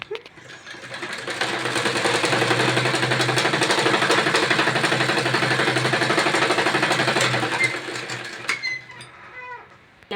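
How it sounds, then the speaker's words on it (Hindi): Sewing machine stitching along a chalk-marked neckline on a suit, a steady continuous mechanical whir running loud and close for about eight seconds before stopping. "जो हमने ये निशान लगाया है अब इसी पे हमको सिलाई चलानी है"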